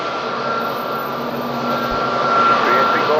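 Aircraft engine roar at Madeira Island Airport in windy conditions, a steady broadband rumble with a faint tonal whine, rising slightly toward the end and continuous throughout.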